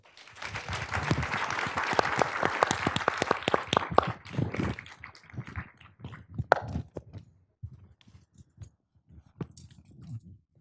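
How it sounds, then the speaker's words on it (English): An audience at a leadership summit claps after a talk, dense applause for about four seconds that then thins into scattered individual claps and fades, heard from a slight distance. "I don't know if you could hear us clapping from back behind that curtain there."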